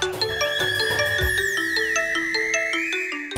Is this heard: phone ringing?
yes